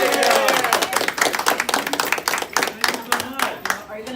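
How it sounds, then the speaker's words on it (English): A small group claps together inside a sandwich shop, sharp uneven hand claps close by throughout, with people talking and cheering over them. "Everybody, big round of applause."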